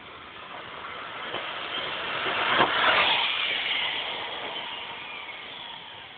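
A Traxxas XO-1 RC car makes a high-speed run, with a steady broadband whine that swells into a loud, close pass around the middle and then fades back to a sustained hiss.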